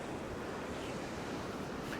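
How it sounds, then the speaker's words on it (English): Ocean waves surge against the rocky shore at Peggy's Cove in a continuous broad roar mixed with wind rumble on the microphone, fairly faint and without anyone speaking. "Here's a good spot to watch the waves"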